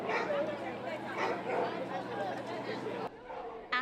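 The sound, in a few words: dogs barking, rescued pups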